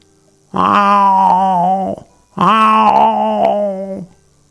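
A voice mimics an old cat, two long, drawn-out, groaning meows of about one and a half seconds each, loud and close, separated by a brief pause.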